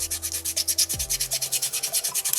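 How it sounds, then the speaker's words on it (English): Sandpaper scrubbing across soapstone while carving a small butterfly, a close, steady back-and-forth rasp in quick regular strokes, about three per second, with a brief low thump near the start. "I'm going to lay my sandpaper down and just cover as much surface of that rock as I can."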